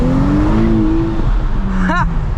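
A 2023 Nissan Z accelerates with a loud, close engine whose pitch rises and then falls, and a short sharp squeal as the tires spin near the end.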